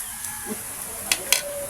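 Chickens cluck and squawk faintly in the background in a rural Philippine province, a couple of sharp bird calls standing out near the end.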